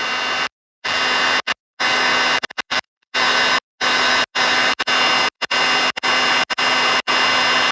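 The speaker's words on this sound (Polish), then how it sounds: "suszarka też na największej mocy jest zupełnie wystarczająca" Hair dryer running at full power to heat glue during an electric scooter handlebar repair, a loud close roaring whoosh cut into repeated bursts by short silent gaps, no talking.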